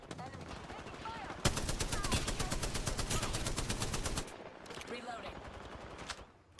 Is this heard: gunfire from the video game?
yes